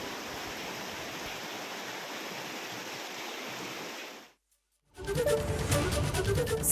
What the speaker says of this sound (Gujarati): હજી પણ સતત વરસાદ ચાલુ છે